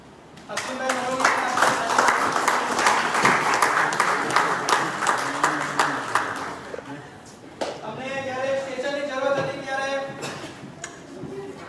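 An audience at a Covid warrior award ceremony breaks into sustained, dense clapping that tapers off and then returns more faintly, with a voice speaking over parts of it.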